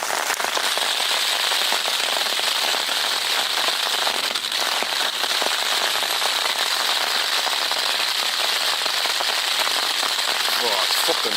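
Heavy rain drums steadily and loudly on a tent's taut fabric overhead, a dense continuous patter that never lets up, on a fell in the English Lake District.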